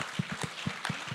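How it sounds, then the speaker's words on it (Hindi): A crowd claps at a CA Final exam result celebration in India, a quick rhythmic run of hand claps, fairly close and lively, over a short stretch. "गाइस ताली बजाते रहो यार"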